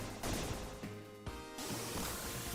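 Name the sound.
double-decker cannon firing in Shinobi III video game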